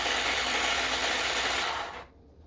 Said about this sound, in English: we're adding some of the mozzarella and some xanthan gum to a food processor